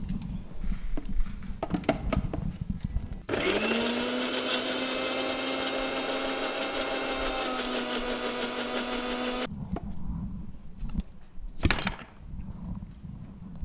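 A kitchen blender juices oranges, spinning up into a steady, loud whir that runs for about six seconds, with clattering and handling noises before and after.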